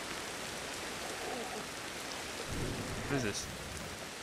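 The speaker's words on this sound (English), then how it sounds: "Now it's raining." Steady rain falling in the game Ancestors: The Humankind Odyssey, a constant soft wash of noise with a person talking over it partway through.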